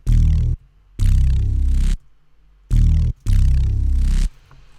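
A thick, gritty synthesizer bass plays loud repeated notes in short stabs and sustained phrases, with brief silent gaps between them.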